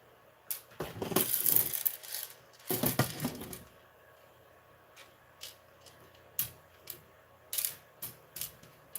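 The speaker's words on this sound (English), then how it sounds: "I'll just dump the controller over and all the screws come out" Small screws tumbling out of an upturned Nintendo 64 controller, two bursts of clattering rattles followed by scattered single clicks and taps on a hard surface, close and fairly crisp.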